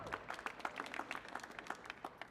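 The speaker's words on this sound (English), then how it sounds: "It's the saddest clap I've ever seen" A small audience gives sparse, half-hearted applause, scattered individual claps sounding faint and thin for a couple of seconds with no voices over them.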